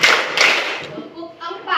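A classroom claps in a counted ice-breaking game, two or three sharp bursts of hand claps amid children's voices.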